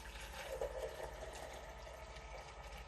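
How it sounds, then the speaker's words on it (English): Sanitizer pouring from the taps of an automated home bar, a soft steady liquid stream with faint pump hum running continuously at low volume. "Pouring."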